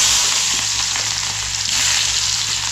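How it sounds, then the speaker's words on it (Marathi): Cumin seeds and chopped small onion sizzling in hot oil in a wok (kadhai) for a tempering, a continuous bright crackling hiss held at an even level close up, with no talking. "इथे मी तेल तापायला ठेवलंय कढईमध्ये आणि थोडं त्याच्यामध्ये जिरं टाकते"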